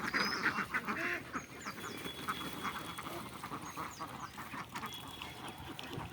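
Ducks on a farm quacking in a nervous group, startled by a plastic bag blowing in the wind, several birds calling over one another at moderate distance, with a steady outdoor background.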